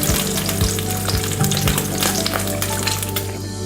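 Pineapple apricot sweet and sour sauce sizzles and bubbles steadily in a hot pan, a close, continuous frying hiss with occasional stirring knocks and no talking.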